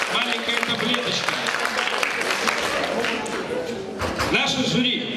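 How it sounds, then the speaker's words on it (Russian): Audience applause for a jury at a Miss Ganzevichi 2008 beauty pageant, dense clapping from a crowd filling the hall, with a voice talking over it. "Можно вам аплодисменты еще раз?"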